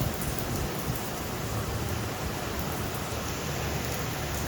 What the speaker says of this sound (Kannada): ಮಳೆ ಬರೋಕ್ಕೆ ಸ್ಟಾರ್ಟ್ ಆಗ್ತದೆ.